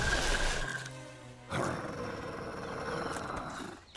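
A cartoon wolf in the animated series Horseland lets out a loud, rough growling roar that breaks off and then surges back in a second sustained snarl.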